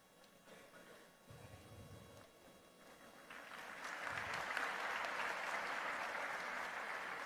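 An audience at a temple foundation-stone ceremony applauds to welcome the honoured chairman, the clapping faint and distant at first, then swelling into a broad, sustained round of applause.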